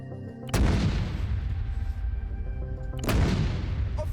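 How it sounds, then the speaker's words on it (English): Heavy booms in a military video game: two loud, deep blasts about two and a half seconds apart, each followed by a long rumbling roll that fills the gaps, with no talking. "What was that explosion?"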